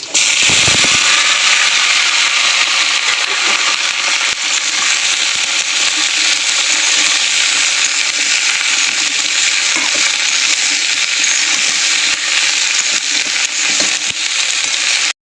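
Eggplant, beans, potato and cauliflower frying in a wok of hot oil over tempered spices, a dense, steady sizzle and crackle with scattered pops, loud and continuous throughout with no talking.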